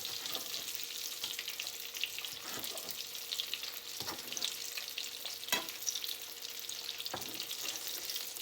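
Croquetas frying in hot oil, making a faint, steady crackling sizzle with occasional light clicks and knocks of a utensil, heard alone at low level.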